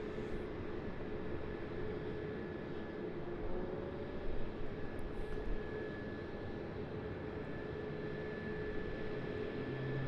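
An airliner jet engine spooling up at Raleigh-Durham International Airport, a steady distant roar and hiss with a faint whining tone held throughout, heard from afar without voices.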